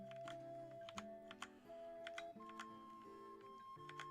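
Computer keyboard typed on while playing Final Fantasy, irregular soft key clicks and taps close by, over faint electronic game music tones.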